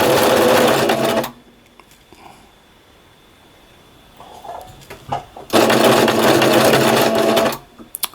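A sewing machine stitches a patch onto loose jersey fabric in two loud, steady runs of whirring, with a quiet pause between them.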